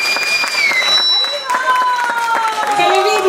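Audience applause for Sunday school teachers and students at a temple play, steady clapping filling the room for several seconds while music or a sustained tone runs beneath it.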